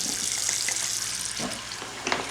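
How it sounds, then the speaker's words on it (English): Metal dies are dropped into water, giving a continuous bubbling, fizzing hiss with a few small splashes and clinks near the end, close by and fairly loud. "I put the dies into the water."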